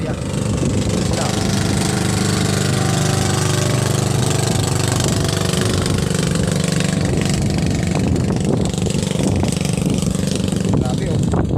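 A steady small boat (bangka) motor drones loudly throughout as the boat approaches, a low churning engine rumble with constant level.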